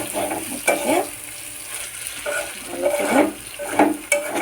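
Meat sizzling as it is sautéed in a pan for a meat pakora recipe, with steady frying hiss and intermittent scraping stirs and light pan clatter throughout.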